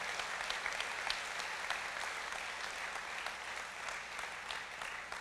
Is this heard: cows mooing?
no